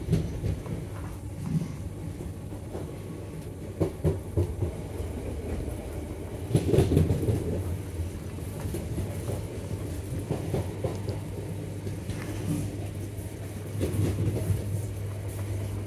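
An Elizabeth line train running between Shenfield and Liverpool Street, with a steady low rumble and periodic clattering of wheels over rail joints. Louder bursts come at intervals, heard from inside the carriage with no talk.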